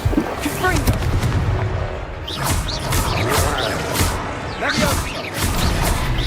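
Repeated Confringo blasting spells go off in Hogwarts Legacy, a dense run of booming bursts and crackling impacts layered with spell effects and game clamor, loud and close throughout.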